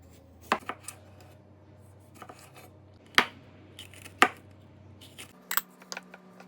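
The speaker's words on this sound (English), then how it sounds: "chop half an onion, slice up radishes, tomatoes, jalapenos," Knife chopping onion, radishes, tomatoes and jalapenos on a board, a few sharp separate knocks spread out among quieter taps and small clatters, close and otherwise quiet.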